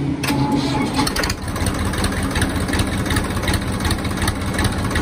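A tractor engine cranks and catches, then runs with a steady, loud mid-low rumble and regular chugging pulses, close by and alone.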